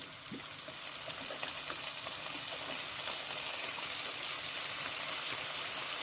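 Lamb stew with onions and Worcestershire sauce sautés in a pot, giving a continuous hissing sizzle that holds steady and close, with faint bubbling and no talking.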